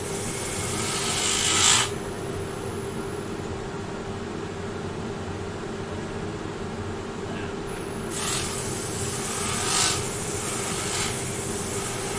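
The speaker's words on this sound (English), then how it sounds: "Just sanding the knot now inside the bowl" Continuous abrasive rasping of sanding a knot inside a wooden bowl on a lathe over a steady machine hum, the scratchy hiss fading briefly in the middle before returning.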